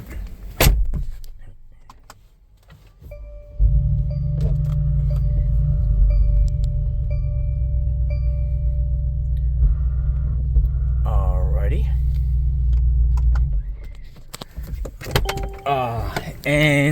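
A 2020 Mercedes G63 fires up with a heavy, deep engine rumble that idles steadily up close for about ten seconds before cutting off, with clicks and door or key handling noises around it.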